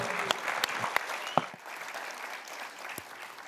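Audience applause for sponsors and a presenter at a Demo Jam tech event, a spread of scattered claps with several sharp, close individual hits, easing off toward the end.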